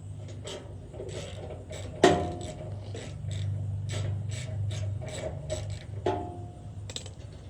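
Wrench loosening 13 mm bolts on a Jansen wood chipper during a blade and belt change, giving a run of close, quiet ratcheting clicks with a sharper metallic clank near the middle and another later.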